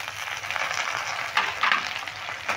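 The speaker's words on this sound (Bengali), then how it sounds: "টমেটো দিয়ে একটু নেড়ে ভেজে নেব।" Onions and tomatoes fry in a pan with a soft, continuous sizzle and faint stirring scrapes, fairly quiet and steady throughout, with no talking.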